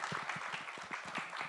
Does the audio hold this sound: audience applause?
yes